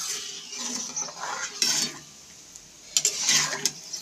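Boiled lentils tipped into a pan after a tempering of hing and green chillies, with wet spoon scrapes and clinks against the pan and a soft sizzle in brief bursts.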